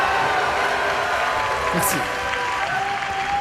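Audience applause during a French stage show, a continuous even wash of clapping with a voice speaking briefly over it.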